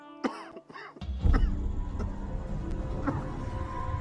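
A few harsh coughs and throat-clearing sounds up close, followed by a low rumbling background with faint clicks.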